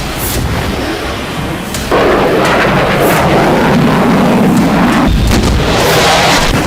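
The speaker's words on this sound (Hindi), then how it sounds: "इजराइल के ये फाइटर जेट बेरूत के आसमान पर सोनिक बूम से घिरे देखे गए।" Sonic boom from Israeli fighter jets over Beirut, a loud, broad rumbling roar that swells abruptly near two seconds and holds heavy and continuous, with no voices over it.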